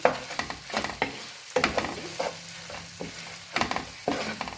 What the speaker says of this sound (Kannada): ಟರ್ಮರಿಕ್ ಹಾಕೊಂಡು ನೀಟಾಗಿ ಮಿಕ್ಸ್ ಮಾಡ್ಕೊಳ್ತಿದ್ದೀನಿ